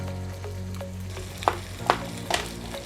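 Roughly chopped onions and green chili sizzling in a hot pan for an Indian dish, a steady low frying hiss broken by a few sharp stirring scrapes, close and alone without talk.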